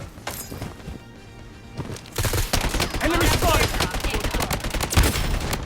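Uzi gunfire in the video game Blood Strike: after a quieter opening, dense rapid bursts of shots rattle continuously, loud and close, amid other game noise.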